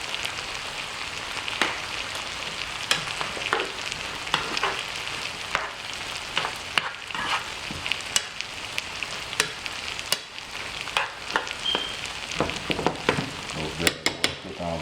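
Vegetables sauteing in butter in a hot pan, giving a steady close crackling sizzle broken by frequent sharp pops and occasional stirring clicks throughout, with no talking.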